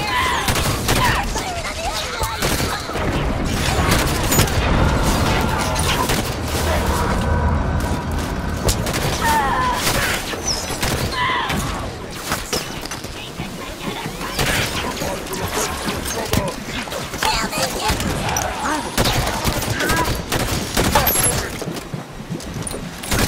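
Gunfire in a Halo 5 video game battle against Covenant forces: dense, continuous bursts of shots and booming explosions fill the whole stretch, loud and close, with voices talking intermittently over the fighting.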